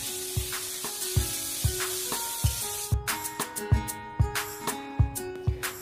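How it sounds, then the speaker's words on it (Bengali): Whole flat beans fry in hot oil with salt and turmeric, a steady bright sizzle punctuated by regular sharp knocks of a spatula stirring against the pan, close and loud. "লবণ হলুদ দিয়ে শিমগুলোকে ভেজে নেব।"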